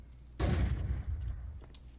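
A flashbang grenade goes off in a video game: one sudden, loud, close burst that rings out and slowly fades over a second or so, with no voices.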